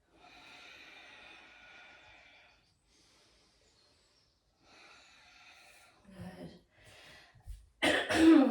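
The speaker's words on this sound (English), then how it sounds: "Can't clear my throat this morning" Throat clearing and coughing from a yoga instructor during a hip flexor flow, a few rough bursts near the end that grow louder, after quiet stretches with faint background sound.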